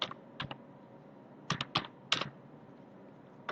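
Typing on a computer keyboard, a few scattered clicks followed by a quick cluster of keystrokes and one final tap, close and clear with no talking.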